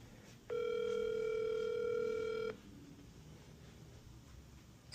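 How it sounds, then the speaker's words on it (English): A telephone dial tone after a call is hung up: a steady, loud electronic tone holds for about two seconds and then cuts off, leaving faint background hiss. "Mr. Mitchell, you don't have to hang up the phone"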